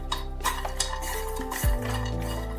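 Cashews and almonds rattle and scrape in a dry pan as they are stirred for light roasting, with scattered clinks of a spoon on metal, close up and without any talking.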